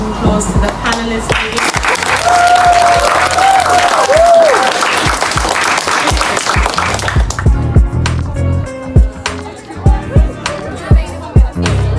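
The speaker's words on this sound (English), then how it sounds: "So now a round of applause to the panelists." An audience applauds panelists at a speaking event, with dense, loud clapping for several seconds that thins out into scattered individual claps.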